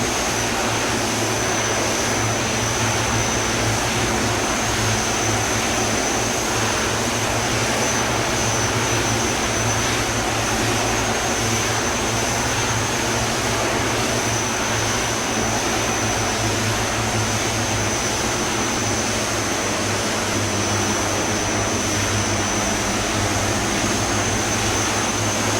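Twin Otter twin propeller engines on floats in the Prepar3d flight simulator drone steadily with a continuous broadband roar, a low tonal hum and a high whine, loud and constant with no talking.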